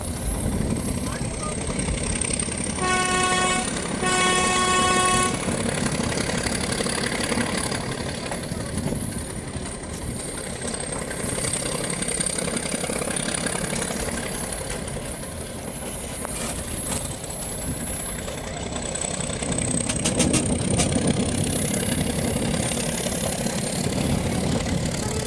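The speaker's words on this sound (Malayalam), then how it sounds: "കൽക്കരി എഞ്ചിൻ പോകുന്നുണ്ട്." A coal-fired steam locomotive pulls a train slowly along, its engine rumbling steadily throughout, with a short burst of whistle toots early on and occasional voices nearby.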